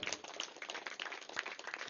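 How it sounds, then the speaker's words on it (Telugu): An audience claps for the PMC team at a gathering, a brief, fairly even burst of many hands clapping together at moderate loudness. "పిఎంసి టీంకి ఒకసారి గట్టిగా చప్పట్లు కొడదాం."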